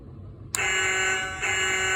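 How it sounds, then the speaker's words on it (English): Electronic horn from a Hess 2000 toy fire truck, a steady buzzing tone that switches on abruptly and holds loud and close, with a slight dip and swell partway through. "And it gives you the horn sound."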